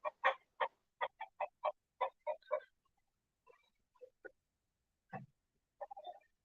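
A contented chicken clucks close by in a quick run of short, evenly spaced clucks, then pauses and gives a few softer scattered clucks and a low note, quiet surroundings otherwise.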